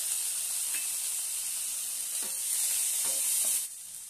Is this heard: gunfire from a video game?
no